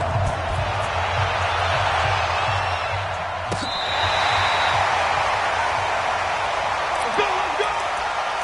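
Stadium crowd in a Madden NFL video game before a Denver Broncos versus Philadelphia Eagles matchup, a steady broad roar of cheering that holds at an even level throughout, with a brief whistle-like tone partway through.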